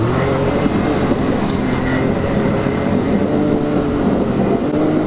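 A Can-Am Maverick X3 Turbo side-by-side spins donuts in dirt, its engine holding a steady, dense roar throughout with no pauses or voices.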